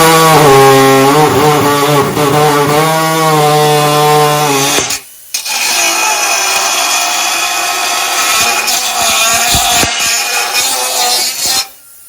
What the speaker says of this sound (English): Now he's going to drill a hole in my truck.